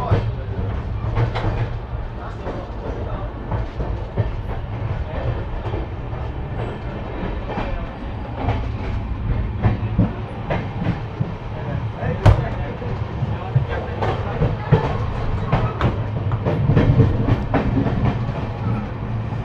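Onboard a brand-new Kolkata-Sairang Express coach on its first commercial run, a steady rumble of the moving train fills the space with intermittent wheel clacks, while a person talks over it.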